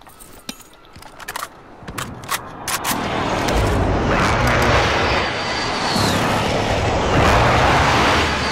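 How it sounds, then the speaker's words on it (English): In a video game, a precision airstrike arrives as scattered sharp cracks give way to a heavy, sustained rumbling roar of aircraft and explosions that fills the scene and stays loud to the end. "Friendly precision airstrike inbound."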